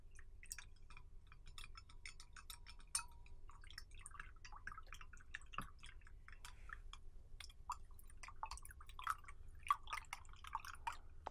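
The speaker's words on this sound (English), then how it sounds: "let us see if this salt will really dissolve when we add it to this water" Salt stirred into water in a small container, producing many quick faint clinks, scrapes and drippy splashes in an irregular stream, close and quiet with no talking.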